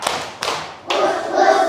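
Claps from a small group counting a rhythm land in three quick bursts, the last one broader and sustained, with children's voices faintly mixed in.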